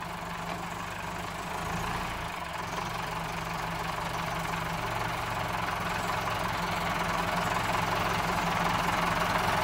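A black Massey Ferguson 385 tractor engine idling nearby, a steady low rumbling drone with a constant even rhythm and no talking.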